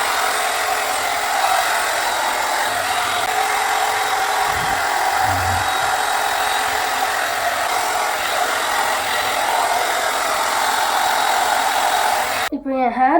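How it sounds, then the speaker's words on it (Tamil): A hair dryer on its hot third setting drying hair, blowing a loud, steady whoosh that runs without a break for about twelve seconds before being switched off. "தேர்ட் மோட்லேயே வச்சு நான் ஹேரை ட்ரை பண்ணிக்கிறேன்."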